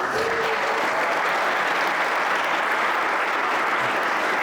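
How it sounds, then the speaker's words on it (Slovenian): An audience claps in a continuous, even burst of applause, fairly loud and sustained with no break. "En aplavz."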